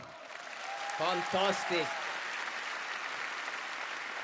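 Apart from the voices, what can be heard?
audience applause for Jakob Norrgård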